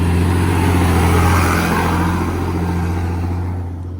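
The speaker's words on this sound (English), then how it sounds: "You can see the trucks carrying in and moving in sands because work is ongoing." Heavy trucks hauling and moving sand at an ongoing estate construction site give a loud, steady low engine drone with a revving rumble throughout, easing slightly toward the end, with no talk.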